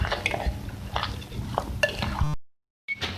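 A spoon stirs a chicken and vegetable filling mixed with white sauce in a pan, giving soft scraping and light metallic clinks in irregular strokes, followed by a short silence.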